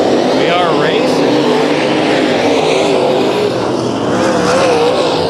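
Race cars roar through a speedway heat race at Kings Speedway, engine noise dense and continuous across the whole stretch with a passing pitch sweep early on, while an announcer talks over the top.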